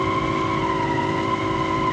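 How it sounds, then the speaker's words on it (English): A V12 muscle car in a racing game drifts in fifth gear, its engine holding a steady loud tonal roar with faint tire scrub underneath, continuous and close for about two seconds without talking. "5th gear, check it out, 5th gear drift"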